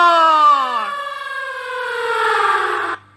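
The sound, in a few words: siren warning of blasting at an open-cast mine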